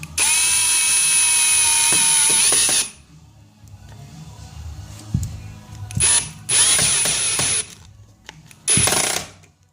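A power drill driving a screw slowly into a wall fixing while installing plantation shutters whirs loudly for a few seconds, then fires in several shorter bursts separated by quiet pauses and small clicks.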